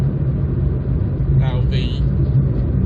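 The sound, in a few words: 1995 Vauxhall Corsa B 1.2 engine running while driving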